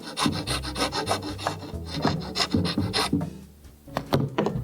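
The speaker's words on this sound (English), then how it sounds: "so I'm taking a rasp and roughing up the surface just a little bit" A hand rasp scrapes quickly over bamboo and wood on a tiki bar ceiling, producing loud, close, rhythmic rasping strokes in rapid succession with no talking.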